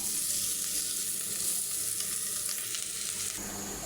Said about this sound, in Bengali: করলাগুলো ভাজি হয়ে গেছে, এখন নামিয়ে নেব।